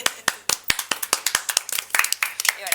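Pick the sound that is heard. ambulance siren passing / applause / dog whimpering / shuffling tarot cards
applause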